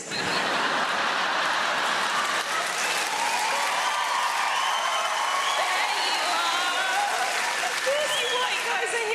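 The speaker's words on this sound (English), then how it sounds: "Come on, guys, cheer louder." A large comedy club crowd at the Apollo cheers and applauds loudly without pause, a dense wash of clapping with shouts and whoops rising through it.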